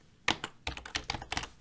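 Fingers type code on a computer keyboard in a quick, uneven burst of close key clicks, with a short pause before the run of keystrokes continues.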